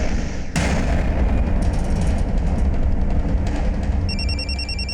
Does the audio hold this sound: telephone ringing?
yes